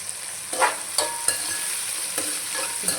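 Cashews frying in hot oil for a function-style chicken fry, giving a continuous bright sizzle with a few sharp clacks of a ladle stirring through the pan, close and without speech.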